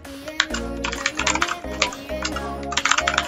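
Rapid, uneven clatter of keys on a computer keyboard during a typing game, close and steady, with bursts of keystrokes and brief pauses and no talking.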